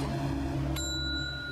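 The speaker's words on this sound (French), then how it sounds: "La cloche." A single bright bell strike, like a bicycle bell, rings out loud and close over a steady hum, then its tone lingers and fades as a clear ringing sustain.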